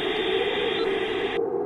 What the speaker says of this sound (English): Mid-90s dial-up tone.